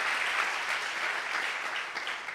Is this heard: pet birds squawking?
no